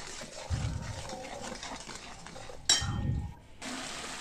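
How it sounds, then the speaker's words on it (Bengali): Spice masala stirred and fried in a pan with salt and a little sugar, with a spoon scraping and clinking against the pan in a few close, quiet bursts separated by short pauses. "স্বাদ মতো লবণ আর একটু চিনি দিয়ে মশলাটাকে ভালো করে কষিয়ে নেব।"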